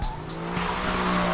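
An Aston Martin Vantage drifting, with a steady high tire squeal and engine drone running loud and continuous across the short burst.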